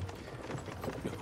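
Carriage horses clop along at an unhurried pace, a soft, irregular run of hoof knocks mixed with low rolling and rattling, close and moderately quiet.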